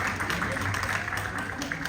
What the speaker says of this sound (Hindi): एक बार तालियों से धन्यवाद।